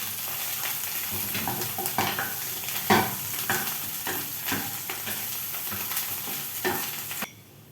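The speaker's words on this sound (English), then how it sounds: "So just throw them in, and I have to fry them until they're brown as well." Mushrooms sizzle steadily as they fry in a pan, with repeated scraping and stirring strokes from a utensil cutting through the continuous hiss, close and fairly loud, with no talking.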